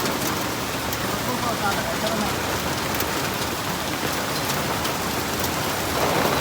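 Heavy rain mixed with hail pelts down as a steady, dense hiss, loud and close, with scattered sharp impacts and no pause throughout.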